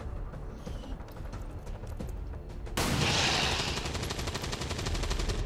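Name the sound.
gunfire in video game XCOM 2 War of the Chosen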